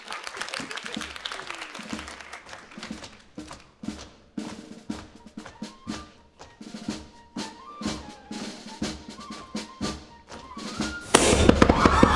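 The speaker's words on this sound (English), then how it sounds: "Who set off that firecracker?" A firecracker goes off on stage during a 2022 high school production of The Music Man, giving a sharp burst near the end after a run of scattered claps, thumps and stage noise.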